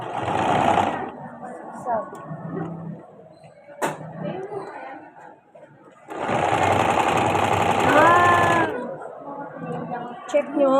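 Sewing machine stitching a back-stitch in two loud whirring bursts, one at the start and a longer one later, with someone talking in the pauses and over the stitching.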